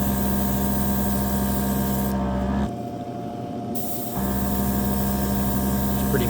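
A Gaahleri Turbo Mini X airbrush sprays matte clear coat onto wheel rims, a steady hissing spray over a constant electrical hum, briefly pausing midway before resuming.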